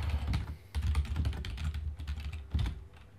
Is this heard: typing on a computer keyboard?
yes